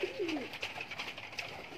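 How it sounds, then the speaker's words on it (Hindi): Pigeons in a cage give a faint, soft cooing call at the start, followed by quiet rustling and background noise from inside the enclosure. "चलें जी, चलते हैं कबूतरों की तरफ।"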